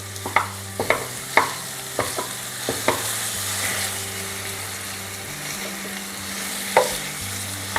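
Raw banana pieces for a Telugu mustard curry (aava koora) are stirred and mashed in a pan on low heat. A constant frying hiss runs under a string of sharp spoon knocks and scrapes.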